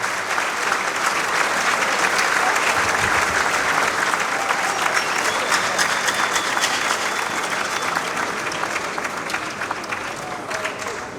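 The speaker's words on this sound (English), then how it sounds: "a round of applause" An auditorium audience at a university speaker series event applauds, dense, sustained clapping from a large crowd lasting over ten seconds and fading slightly toward the end.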